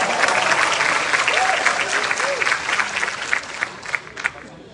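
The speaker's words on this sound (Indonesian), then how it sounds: "Tepuk tangan untuk netizen Indonesia." A crowd applauds loudly and steadily, dense clapping that holds for several seconds before thinning slightly at the end.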